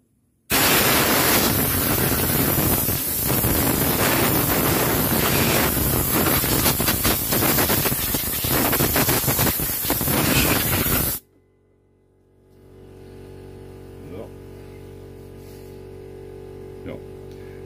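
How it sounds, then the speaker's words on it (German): Dust is blown out with a strong, loud, continuous blast of compressed air for about ten seconds before sealing, then cuts off abruptly to a quieter room hum. "Erst pusten wir es mal aus. Dass der Staub da rauskommt, den wollen wir da nicht wieder mit reinpinseln."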